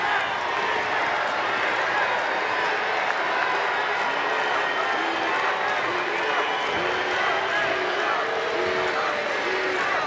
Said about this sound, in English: Crowd trying to get Iglesias through this.